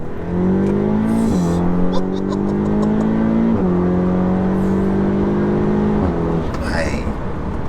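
A tuned 475 bhp Audi S3 engine revs up steadily while accelerating on a B road, its pitch climbing through several gear changes, loud and close from inside the car.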